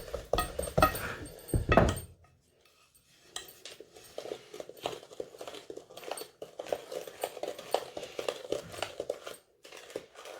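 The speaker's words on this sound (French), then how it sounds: "On remue bien." Chocolate cake batter with sugar being stirred in a bowl, a steady run of soft scraping and light clinks from a spoon after a brief louder clatter, with no talk.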